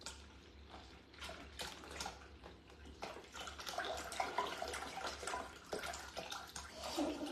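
Milk being poured into a container for making cheese, a continuous splashing, gurgling stream close by that grows a little fuller as the pour goes on.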